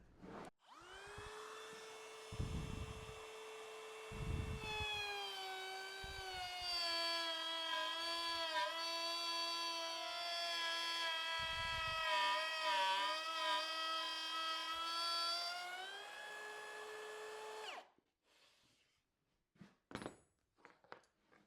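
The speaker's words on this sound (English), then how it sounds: "I've got a dovetail bit in the router." Router fitted with a dovetail bit cutting pre-finished plywood along a clamped straight edge, a loud steady high whine for about fifteen seconds that winds down at the end, followed by a few knocks and handling sounds.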